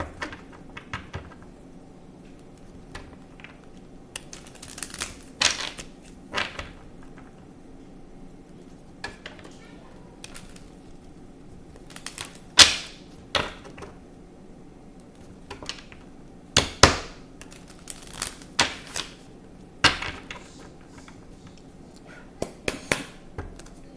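Tarot cards are shuffled by hand, irregular soft riffling and crisp slaps spread across a quiet background, some bursts sharper than others.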